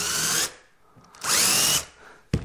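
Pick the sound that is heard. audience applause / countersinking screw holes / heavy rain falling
countersinking screw holes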